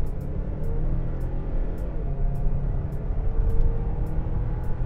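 A Mazda CX-5 2.5 Turbo accelerates hard from 60 to 120 km/h, heard from inside the cabin as a continuous deep engine drone and road rumble that swells slightly, with faint regular ticking above and no talking.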